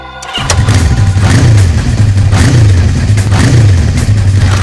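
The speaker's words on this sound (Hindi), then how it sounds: "तो हम तुम्हें कुछ बाइक्स की आवाजें सुनाएंगे" A loud motorcycle engine, played back as a recording in a police drama, starts abruptly and settles into a throbbing, rhythmic idle with a pulsing low-end beat that stays close and prominent throughout.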